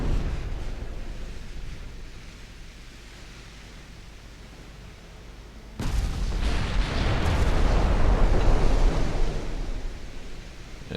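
Warship guns firing back in the naval strategy game Ultimate Admiral Dreadnoughts, set in a British 1900 campaign: a low steady rumble, then a sudden loud burst of heavy booming gunfire that swells and lingers as a dense roar.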